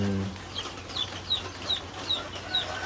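Soft, repeated clucks from a rooster come at a steady pace, fairly faint over a low background hum.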